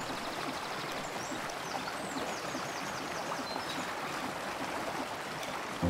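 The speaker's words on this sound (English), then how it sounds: "Well, the river should be flowing now." Steady broadband rush of a river flowing in the video game Embracelet, continuous and even throughout, with faint bird-like chirps above and a brief bump at the very end.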